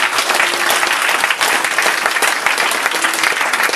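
A church congregation breaks into loud, sustained applause and cheering for Jesus, a dense steady roar of clapping with crowd noise filling the room throughout.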